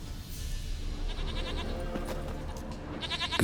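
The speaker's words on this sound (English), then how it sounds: "Here, goat." A goat in The Witcher 3 bleats in short wavering calls, moderately close over low ambient game sound, with a louder bleat near the end.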